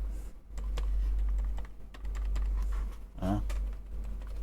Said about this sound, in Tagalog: Sobrang tahimik ng keyboard.